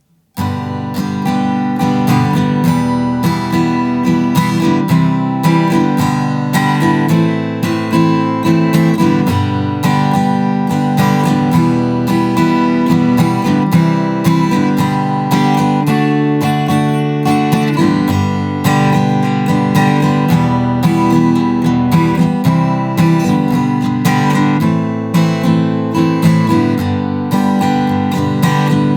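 Steady guitar strumming through the verse chord sequence of a song, loud and continuous with a regular rhythm and no voices.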